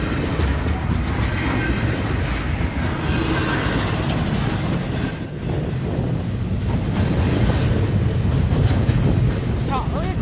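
A long freight train passes through Arrington, Tennessee, trailing black smoke, with a loud, continuous, close rumble and rolling wheel noise that holds steady throughout.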